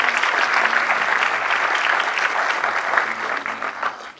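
An audience claps for the staff at a film festival closing held at venues in Toronto, a dense, steady wash of applause that keeps going loudly for about four seconds before tapering off.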